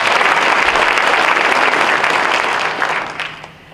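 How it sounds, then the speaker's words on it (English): Dense, steady applause from an audience at a county board of education meeting, honoring an absent teacher, with many hands clapping at once before tapering off near the end. "let's give him a round of applause."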